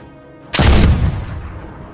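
A single blunderbuss blast erupts abruptly after a moment of near silence, a loud booming shot whose rumble and crackle trail off slowly over the following second and a half.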